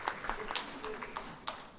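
Sparse, light applause from a high school senior awards audience: a handful of separate claps spread over a couple of seconds, fairly faint in a large room.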